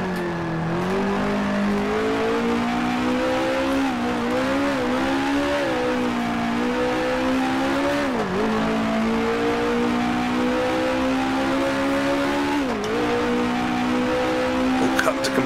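A 1966 Formula One race car engine in the Grand Prix Legends game, on the South African Grand Prix circuit, drones loudly and continuously, its pitch rising and falling through gear shifts and braking as a voice talks over it.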